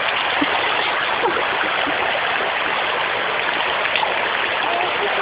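River water rushes steadily past, a dense continuous wash that stays loud and even throughout, with faint voices mixed in at times.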